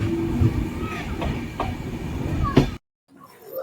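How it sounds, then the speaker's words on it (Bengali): The 13153 Gour Express rumbles along after leaving Bolpur, a steady low rail roar with faint clatter heard from inside the carriage, cutting off abruptly near the end. "বোলপুর থেকে ট্রেন ছাড়ল"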